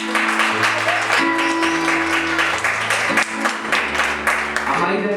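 Strong, steady applause from a crowd at a wedding in Cantel, Guatemala, continuous clapping filling the whole stretch with a faint voice underneath.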